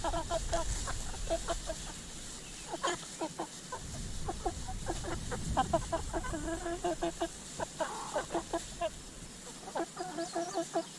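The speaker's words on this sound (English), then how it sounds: "Chickens." Backyard chickens cluck and murmur in short, scattered bursts close by, a busy flock chattering over a quiet background, with a faint rustle midway.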